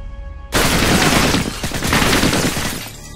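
A dense, loud barrage of gunfire from a shotgun in the video game Modern Warfare 2 bursts in suddenly and keeps roaring for about three seconds before cutting off.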